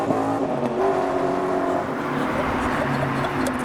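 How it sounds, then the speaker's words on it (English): A BMW E39 pulls away from a rainy car show, its engine note climbing as it accelerates close by, over rain, crowd murmur and faint talk. "Cars are going to start skedaddling from the show, just like this E39"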